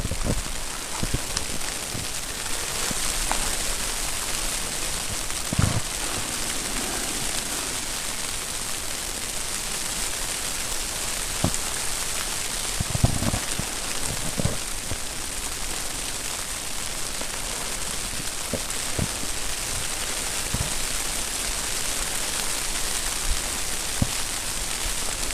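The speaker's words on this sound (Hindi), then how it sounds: "जम्मू के मैदानी इलाकों में कल से शुरू हुआ बारिशों का सिलसिला आज भी जारी रहा, जिसमें रुक रुक कर हल्की बारिश दर्ज की जा रही है" Light, intermittent rain falls steadily on the plains of Jammu, a constant soft hiss with scattered drops and occasional nearby taps, no voices.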